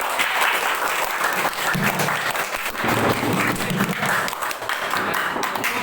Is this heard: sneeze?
no